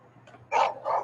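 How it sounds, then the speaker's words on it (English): A dog gives a couple of short, sharp barks nearby, indoors during an online precalculus lesson, one quick yip followed by a louder bark. "Stop it, dog"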